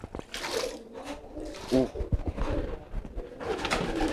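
Pigeons, including a newly bought homing pigeon, coo softly in short throaty bursts close by, with faint rustling and scattered background noise between calls.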